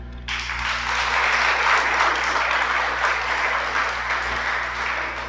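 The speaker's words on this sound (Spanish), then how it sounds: "Dale un aplauso." Applause from a congregation at a Shabbat service, breaking out suddenly and continuing as sustained, even clapping from a large group before easing slightly at the end.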